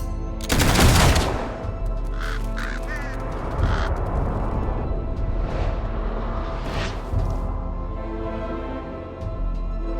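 A rifle volley fired on command at a castle, one sharp loud crack of many rifles together, followed by a ringing tail and scattered voices and noise.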